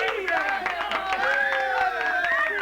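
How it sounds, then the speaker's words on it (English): A crowd cheers and applauds, likely a sound effect: voices whoop and shout in rising pitches over a dense patter of clapping, loud and close throughout. "people are cheering for you"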